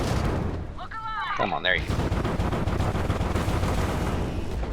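Spaceship turret guns firing in sequence in the video game Starfield, a dense continuous rattle of rapid shots and booms, with someone speaking briefly over it.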